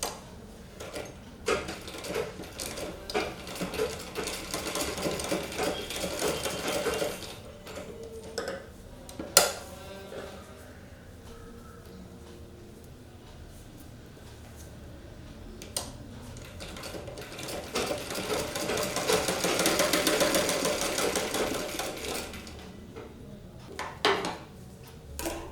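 A sewing machine stitches a blouse front piece in bursts of rapid, quiet mechanical ticking and whirring, pausing between runs and ending in a long steady stretch, with occasional small clinks and no talking.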